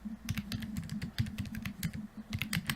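Fingers tap out a card number on a computer keyboard, a quick uneven run of close, crisp key clicks, fairly quiet, with no speech.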